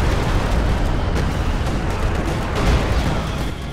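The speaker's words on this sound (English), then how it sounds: "That was a pretty nasty super barrage." Artillery super barrage in a video game, a dense continuous roar of overlapping explosions and rumbling blasts, loud and sustained with no pause.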